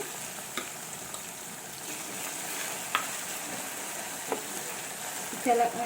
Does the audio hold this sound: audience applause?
no